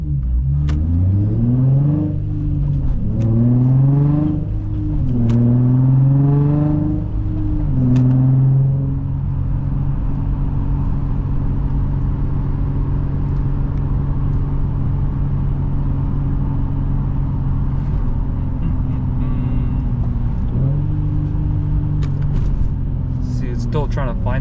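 A cammed Infiniti G35 driving and accelerating, with loud close engine revs rising through several gear changes and then settling into a steady, choppy rumble while cruising.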